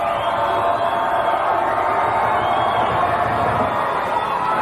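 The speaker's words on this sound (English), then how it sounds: "The crowd is loud in here tonight. Very loud." Loud, steady crowd noise fills a high school gym during a 1998-99 Arlington vs. Waltham basketball game, a continuous roar of cheering and shouting voices with no breaks, dense and close throughout.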